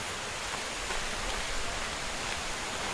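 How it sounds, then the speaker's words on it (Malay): Steady broadband rush of flowing water near the Puteri 7 waterfall on the Bukit Madei trail in Gombak, a continuous even wash with no voices, moderately loud and unbroken throughout. "Dah bunyi air"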